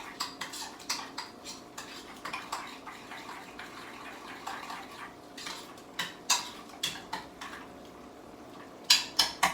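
A spoon stirs a mixture in a bowl for a Mexican dish, making irregular clinks and scrapes against the bowl. The clinks come in quick bursts, with a sharper cluster toward the end, and no one speaks.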